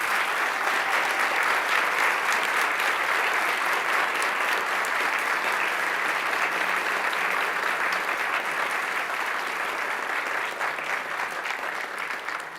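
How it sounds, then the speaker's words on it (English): Members of a state assembly clap for newly sworn-in colleagues during a floor session, a long, sustained roomful of applause that thins slightly near the end. "please give them a round of applause for stepping up to serve."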